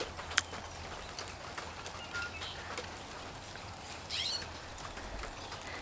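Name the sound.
starlings calling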